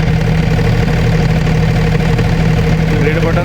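A generator engine runs close by at a steady idle, a loud, even mechanical hum with a low droning pulse that holds without a break throughout.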